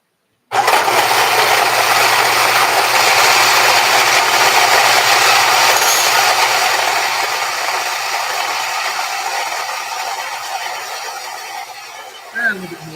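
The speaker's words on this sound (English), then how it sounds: "I'm going to start grinding that at the medium setting." An electric coffee grinder runs at a medium setting, grinding beans with a loud, steady whirring buzz that starts abruptly and fades slightly over time, then a short clatter comes at the end.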